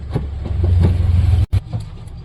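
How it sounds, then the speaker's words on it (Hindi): The engine of a Tata Magic Express van cranks and starts after a no-start fault, with a low rumbling idle that briefly cuts out and then picks up again. "बेटा प्रेस दबा के गाड़ी स्टार्ट कर दो, स्टार्ट करो गाड़ी को।"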